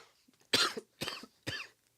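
Three separate coughs, close and fairly loud, each a sharp burst spaced evenly about half a second apart with quiet between them.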